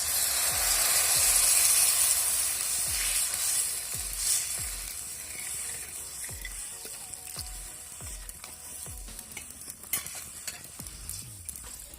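Chilli and onion fry in a pan for Maharashtrian zunka, a steady loud sizzle and hiss close by, broken by regular scraping strokes of stirring throughout.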